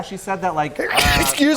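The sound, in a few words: sneeze on air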